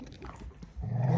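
A puppy plays roughly with bigger dogs, giving short growls and whimpering yelps in quick bursts, then a louder, sustained low growl near the end.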